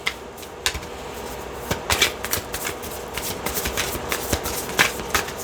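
Tarot cards are shuffled at length, up close, giving a continuous papery riffle broken by sharp snapping slaps.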